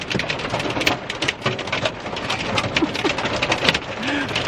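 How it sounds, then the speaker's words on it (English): Hail pelting the ground and a car during a violent storm at the Garden of the Gods, a dense, continuous patter of sharp hard impacts with no speech. "it almost completely covered the ground in hail and ice in a matter of like 30 seconds"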